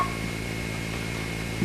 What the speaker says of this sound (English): The digit 2 is composed of a 700 and an 1100 Hz tone.